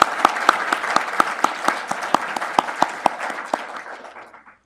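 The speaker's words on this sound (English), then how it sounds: "Please join me in giving them another round of applause." Audience applause at a healthcare symposium, honoring the conference organizers: a steady wash of many hands clapping, with some sharper individual claps standing out, fading away near the end.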